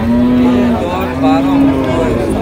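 A heifer calf at a cattle market gives two loud, close moos one after the other, with a short pause between them.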